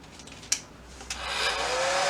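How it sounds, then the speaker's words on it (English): A couple of clicks, then a portable hair dryer starts up and builds into a steady, close whooshing roar that rises in pitch as it spins up. "I use a hairdryer, which was on sale because it's a portable hairdryer that doesn't fold up"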